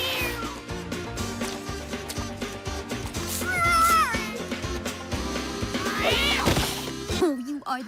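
Cartoon cats meow repeatedly over a busy animated soundtrack with music, several rising mews standing out near the middle and end, loud and close.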